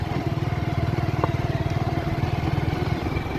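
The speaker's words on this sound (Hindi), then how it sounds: "आराम आराम से ही मुड़ेंगे यहाँ से हम बाइक को।" A motorcycle riding along a mountain road between Murree and Kashmir, turning slowly at a bazaar junction, its engine thrumming in a steady, close, rapid pulsing beat with no voices.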